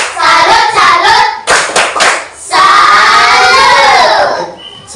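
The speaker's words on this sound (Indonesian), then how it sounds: "Kita berikan tepuk salut untuk Christine." A classroom of children claps a rhythmic 'tepuk salut' applause, short bursts of loud claps in patterned groups, then sustained clapping mixed with children's shouting and chanting voices, close and loud.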